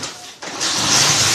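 A Honda motorbike engine, a small 70 or 125 cc bike, is started without a key: a quiet cranking is followed by the engine catching and settling into a steady, fairly loud idle. Nothing else is heard.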